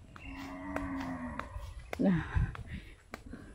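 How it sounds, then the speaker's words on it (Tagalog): A cow lets out a long, low moo that rises and fades, followed by a shorter grunting call, heard outdoors against faint background noise. "Ingaay ng isa ka baka ang gatasan."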